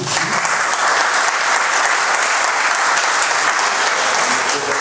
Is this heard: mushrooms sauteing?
no